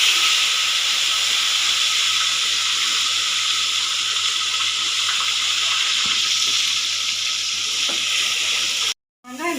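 Onions frying in a pan for a chicken leg kuzhambu, a steady loud sizzling hiss that runs continuously before cutting off abruptly near the end.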